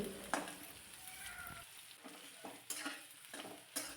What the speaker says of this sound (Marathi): थोडासा कांदा मी इथे परतून घेते